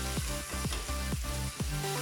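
Onions sauté in a pan for a Tamil dal rice dish, a loud continuous sizzle broken by four regular scraping strokes of a spatula, close and without talk.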